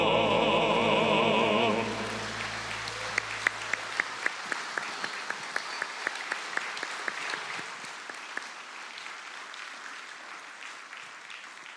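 A church congregation applauds a vocal quartet at a Sunday service. The tail of the singing fades out, then steady clapping follows, thinning to scattered claps by the end.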